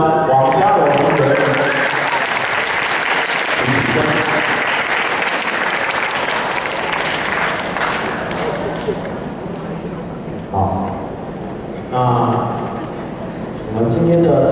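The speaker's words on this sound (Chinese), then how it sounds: "请起身接受同学的掌声。" Students at a second-grade class reading competition clap together in a sustained round of applause filling a room, then it thins out as an amplified voice speaks.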